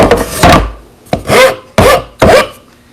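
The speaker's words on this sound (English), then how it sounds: "use your rasp and get things kind of smoothed up" A hand rasp scrapes across rounded wooden tenon ends in four short, loud, separate strokes, each a coarse rubbing rasp with brief pauses between.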